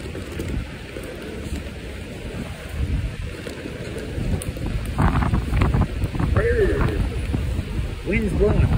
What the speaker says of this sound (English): Wind's blowing that way.